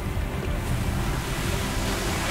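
Ocean waves and gusting wind roar constantly around a sailboat under way, a loud, dense wash of surf and microphone wind noise.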